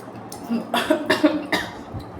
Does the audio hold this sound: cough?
yes